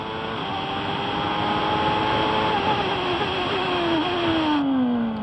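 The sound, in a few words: metallic Ford V8 engine of a 1993 F1 car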